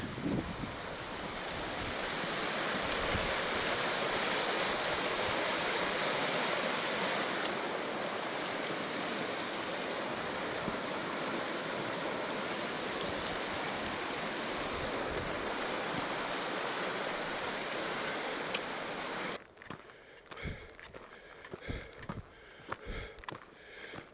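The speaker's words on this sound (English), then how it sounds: "This is the West Tennessee Creek over the bridge." Steady broadband rushing of West Tennessee Creek flowing under a bridge on the Colorado Trail fills most of the recording, then drops away near the end, leaving quieter outdoor noise with faint bumps.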